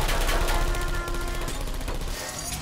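Heavy, loud automatic gunfire in a Portal 2 co-op session, with a rapid, continuous rattle of shots close up and no talking.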